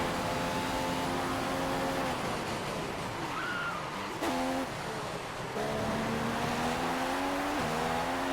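Race car engines revving in a racing video game on a Malaysia circuit, high-pitched whines rising and dropping through gear changes, with a brief cut near the middle and wheel spin into a corner, loud and continuous without talk.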